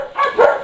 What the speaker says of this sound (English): I believe he's like a Pyrenees and Lab mix